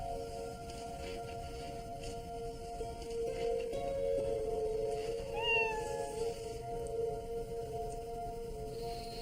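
A cat meows in a house's bedroom, a drawn-out wavering call rising over a steady electrical hum, moderately quiet, with a second short mew later and no voices.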